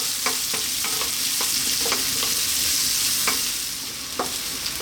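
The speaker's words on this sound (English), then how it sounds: "Next up, let's drop in our onion. And we're going to go, as you can hear, on quite a high heat for about 3 minutes." Chopped onion fries in oil over high heat for a vegan mustard-leaf curry, with a constant close sizzle and scattered light scrapes and clicks from stirring, and no talking.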